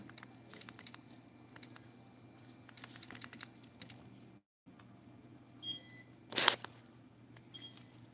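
A phone number is keyed in on a store checkout keypad, a run of light tapping presses over a low hum, followed by a few sharper electronic beeps near the end.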